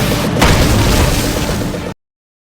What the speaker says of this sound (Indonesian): Setelah insiden ledaknya semua petasan